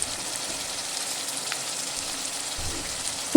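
Spice paste of Kashmiri chilli powder, turmeric and salt being sautéed in a pan for egg curry gives a soft, steady sizzle throughout, ending with a low thump and a sharp click.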